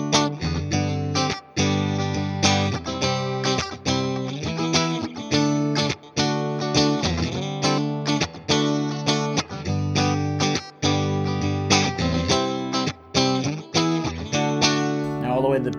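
PRS Silver Sky electric guitar on its middle and bridge pickups, played with driven, slightly chorused tone in steady strummed chords and rhythmic riffs with brief choked gaps, loud and continuous.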